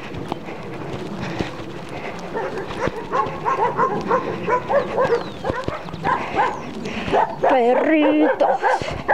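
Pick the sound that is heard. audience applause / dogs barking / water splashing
dogs barking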